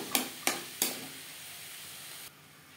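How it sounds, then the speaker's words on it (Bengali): Green peas stirred with spices in a pan for ghugni: three quick scraping strokes of a spoon in succession, then a low, quiet sizzle that drops off abruptly near the end. "মশলার সাথে মটরশুঁটি বেশ ভালো করে মিক্স করে দেব"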